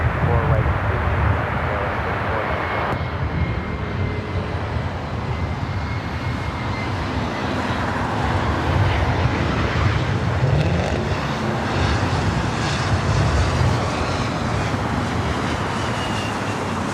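A loud, steady jet roar of an airplane landing on runway 24 right at Los Angeles International fills the whole stretch, with an air traffic control radio voice heard under it.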